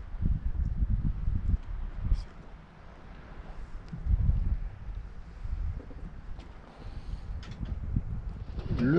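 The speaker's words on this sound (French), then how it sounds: "Le petit vent se lève" Wind gusts over a sailboat anchored in the Golfe de Mortoli bay in Corsica, a low, buffeting rumble that swells and eases in waves, with faint knocks from the boat and no talk.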